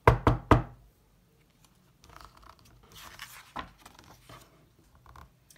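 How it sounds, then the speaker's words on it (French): Three quick, loud knocks on a wooden door land together at the start, then fade into faint rustling and shuffling. "on frappa à la porte"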